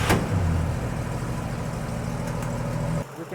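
A vehicle engine idles just after start-up, a steady mid-pitched hum and rumble for about three seconds before it cuts off abruptly.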